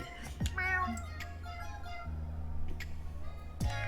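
A cat in the game Boyfriend Dungeon meows a few times, short close cries spaced over a few seconds, with a soft purring hum underneath.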